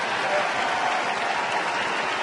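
A baseball crowd applauds after a bunt, steady broad clapping from many hands filling the stadium throughout.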